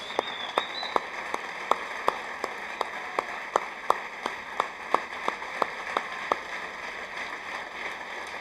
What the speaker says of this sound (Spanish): Vamos a darle un aplauso de pie y manos arriba a los músicos, cantantes